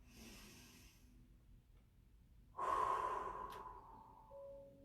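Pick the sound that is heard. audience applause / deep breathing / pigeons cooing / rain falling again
deep breathing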